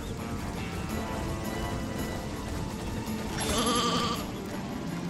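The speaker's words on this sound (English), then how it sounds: "That poor sheep!" A sheep bleats in the Skylanders Swap Force video game, one wavering cry rising near the end over a dense layer of game music and ambience.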